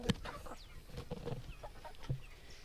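Chickens cluck in a backyard coop after being fed corn, with scattered soft clucks and short calls from nearby birds.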